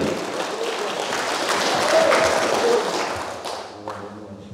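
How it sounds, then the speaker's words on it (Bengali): Applause from an audience at a Manchester Awami League gathering, a dense wash of many hands clapping that swells to a peak midway, then thins out with a few lingering claps and murmurs. "সবাই একটু হাততালি দেন"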